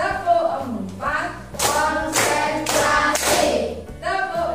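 A group claps together in a rhythmic clapping game, with several loud, sharp bursts of hand claps landing in a steady beat while voices carry on between and under them.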